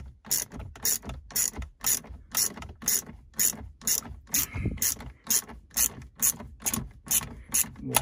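A socket ratchet wrench turned in steady repeated strokes while swapping the LCD screen on a 2018 Jeep Compass, each stroke a sharp metallic clicking burst, close and clear with no talking.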